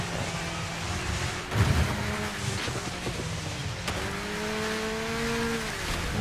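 Rally car racing in the Dirt 5 video game on Xbox One: a revving engine climbs and shifts through gears with tyre noise, a brief louder burst midway, then a sustained rising whine, steady and close.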